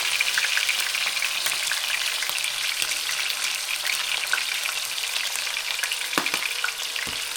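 A steak seasoned with salt, onion powder and Montreal steak spice sears in a pan, producing a loud, even, continuous sizzle with a couple of sharper crackles near the end.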